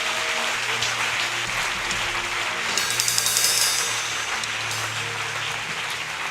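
A church congregation applauds loudly and steadily in praise of Jesus, a dense continuous clapping that swells midway, with no talking.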